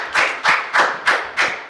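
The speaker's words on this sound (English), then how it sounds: "Clap it up." Audience clapping in unison for a guest author at a live talk event: five loud, evenly spaced claps, about one every 0.3 seconds, close and crisp, with no voices.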